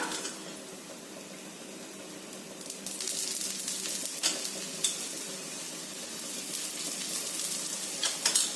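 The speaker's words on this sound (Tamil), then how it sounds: "லைட்டாக சுற்றி எண்ணெய் ஊற்றி நம்ம சுட்டு எடுத்துக்கலாம்" An aval (flattened rice) chapati roasts on a pan with oil drizzled around it, a soft steady sizzle that grows louder midway, with faint scattered clicks and taps.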